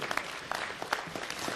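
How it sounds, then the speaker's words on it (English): Audience applause at a city council meeting: a steady, moderately loud patter of many hands clapping together, dense and continuous for the whole brief stretch, with no voices rising above it. "So let's give them a round of applause for that"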